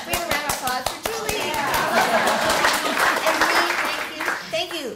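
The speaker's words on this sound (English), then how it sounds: "We have a round of applause for Julie." An audience at an arts administration educators' conference keynote breaks into sustained clapping that builds and fills the room, with voices and a few shouts heard at the start and end.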